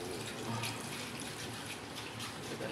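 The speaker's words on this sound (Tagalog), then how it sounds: "Lagyan natin ang sabaw para mas masarap." Broth pours steadily into a pot of chicken tinola, a continuous gushing, splashing stream of liquid at moderate volume, with no voices.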